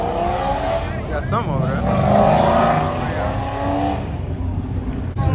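Cars at a night car meet trading revs in a rev battle, a steady loud engine roar with one rising rev swell, heard at a distance beneath crowd chatter and people talking nearby.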